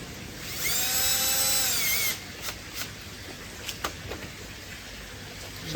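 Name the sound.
power drill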